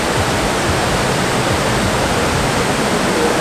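Waterfall in Bali, Indonesia: a dense, continuous rush of falling water, loud and close, steady without pauses or variation.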